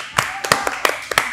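A few people clap in a podcast studio, four or five sharp, spaced claps over about a second, close and fairly loud, with a faint voice underneath.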